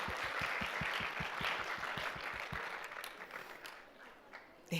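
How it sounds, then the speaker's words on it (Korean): Applause from an audience congratulating students at a school graduation ceremony, a steady wash of clapping with a few sharp regular claps up front, tapering off toward the end as a voice speaks. "우리 박수로 축하해 주겠습니다"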